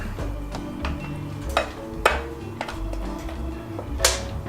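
Dip being stirred in a bowl with a utensil, soft scraping and irregular clinks against the bowl over about four seconds, close and fairly quiet.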